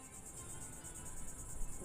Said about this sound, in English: Where did these crickets come from?